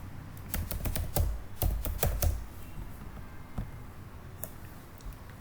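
Username typed on a computer keyboard: a quick burst of sharp, close key clicks that thins into a few scattered taps, with no talking over it.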